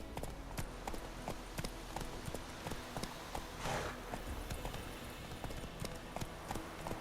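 Horse hooves gallop at a steady, rapid clip-clop rhythm in The Witcher 3, close and continuous, over a low ambient game backdrop with no speech.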